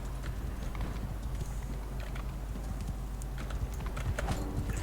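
Horse hooves clip-clop in the medieval combat video game Mount & Blade II: Bannerlord, a steady galloping patter buried in a dense, continuous battle din, with no talk over it.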